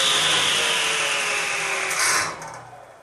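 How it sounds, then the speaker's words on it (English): A Ridgid R4512 10-inch hybrid table saw runs with a steady high whine, then the brake cuts in and the motor winds down quickly to a fading hum. "I'm going to turn it on, let it run for a little bit, shut it off."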